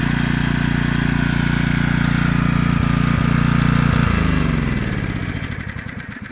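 An old Generac 3500XL generator engine runs loud and close with a rough, pulsing idle, then its firing slows and sputters as the engine dies down near the end.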